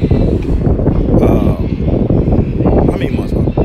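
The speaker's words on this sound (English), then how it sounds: "It's a little windy out here, so I apologize." Wind gusts buffet the microphone outdoors beside a Chevrolet Trailblazer SS truck, a loud continuous low rumble with swelling gusts throughout.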